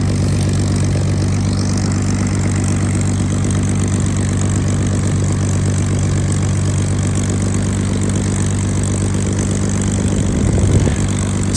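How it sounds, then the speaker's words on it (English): The Rolls-Royce Merlin engine of a Spitfire warms up on the ground at a steady, loud idle. The deep, even drone holds without a break throughout. "Soon, when the Rolls-Royce Merlin engine is warmed up, we will be able to taxi to the holding position to do our run-up."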